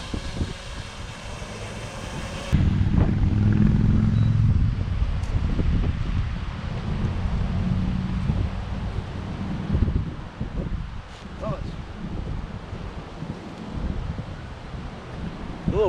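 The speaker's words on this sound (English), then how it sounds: "A little breezy out here today," Wind gusts across a beach, buffeting the microphone in a steady, rumbling roar that swells loudly early on and then continues in uneven surges, with no talk.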